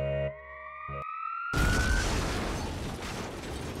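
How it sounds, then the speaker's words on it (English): An alarm siren from the video game Fate/Grand Order wails with a rising electronic tone. A loud burst then cuts in, followed by a sustained, dense roar. "That siren seems to have alerted some functional models of those defensive weapons we saw earlier."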